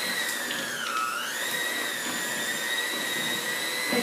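An electric blender whirs steadily at a high pitch while mixing cream cheese and sweetened condensed milk for a peanut butter pie. The motor dips briefly in pitch and then holds a constant drone, with no talking.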